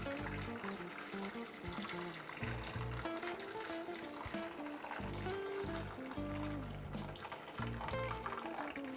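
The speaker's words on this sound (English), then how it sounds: "what I have here is some hot water, and I'm going to pour it in my roasting pan here." Hot water poured into a roasting pan for a cheesecake water bath, a steady close splashing trickle running continuously with slight surges throughout.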